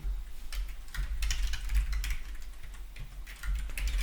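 Keys clatter in quick irregular bursts on a computer keyboard as a passphrase is typed in an office setting, close and steady over a low background hum, with no talking.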